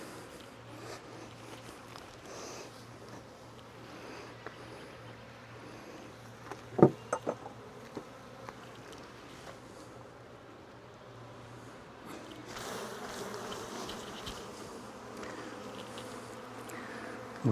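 Honeybees buzz steadily around an opened hive during a frame inspection, a low continuous drone with scattered sharp clicks and handling knocks partway through and a louder, busier swell toward the end.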